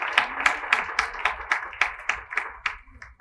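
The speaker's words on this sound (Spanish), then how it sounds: "Yo creo que merece un aplauso porque creo que somos salvos por fe." Applause from a church congregation, a steady run of hand claps at an even rhythm that stays fairly loud throughout, with no talking over it.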